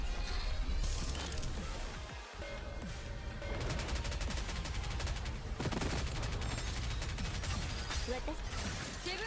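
Video game gunfire with a meme gun, a dense crackling fusillade of rapid shots running throughout, with bursts and impacts layered over continuous game noise and a voice talking over parts of it.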